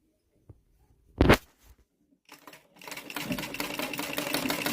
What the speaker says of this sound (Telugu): మీకైతే ఇప్పుడు కుట్టి చూపిస్తాను చూడండి.